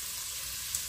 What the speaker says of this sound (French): faire roussir cet ail, alors très légèrement, hein.